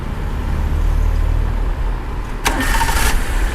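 A Nissan Mira car engine cranks and catches at once, settling into a steady idle after a brief burst of noise.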